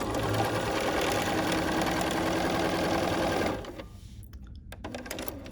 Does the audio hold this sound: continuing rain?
no